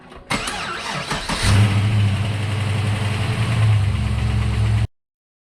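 A Holden Commodore VZ Thunder 6-litre V8 fires up with a brief crank, then settles into a loud, steady, close idle rumble that cuts off abruptly near the end.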